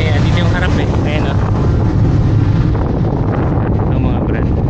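Strong wind rushes across the open front deck of a ferry in the Philippines, a loud, constant roar of buffeting wind on the microphone over a low engine drone, with a voice partly underneath.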